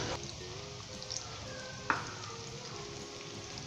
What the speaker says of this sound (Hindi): और 2 से 3 मिनट हम प्याज को लाइट गोल्डन ब्राउन करेंगे, यानी बादामी करेंगे